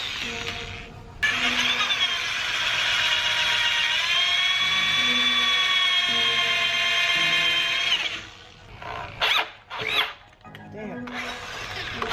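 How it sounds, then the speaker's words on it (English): A drill bit screams at high pitch for about seven seconds, then stops, followed by a few short revving bursts up close, drilling holes while building a gaming chair from a car seat. "That drill bit is something fierce."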